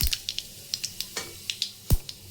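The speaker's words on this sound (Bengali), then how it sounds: "তেলটা গরম হয়ে গেছে, তাই আমি এর মধ্যে দিয়ে দিচ্ছি জিরে ফোড়ন আর শুকনো লঙ্কা" Cumin seeds and dried red chillies crackle in hot mustard oil, a run of sharp, close pops spaced through the moment, with one louder spit near the end.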